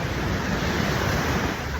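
Surf rolls onto a beach at Da Nang, Vietnam, a loud, steady wash of breaking waves mixed with wind noise on the microphone, with no speech.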